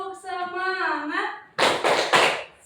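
A fourth-grade primary school class performs a spirit clap: a sustained, sing-song chant of voices, then three loud, sharp group claps in quick rhythmic succession.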